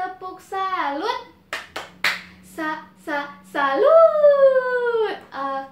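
A group of children in a primary school class chant and clap a quick rhythmic cheer, sharp claps between sung syllables, ending in a long drawn-out shout, close and loud.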